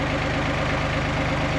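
A tractor engine idles steadily in a low, even, rapid knocking rhythm, loud and close for the whole stretch with no voices.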